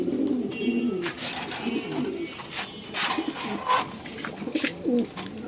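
A pair of red checker pigeons coos steadily at a pigeon farm, their low rolling calls repeating close by throughout, with faint background bustle.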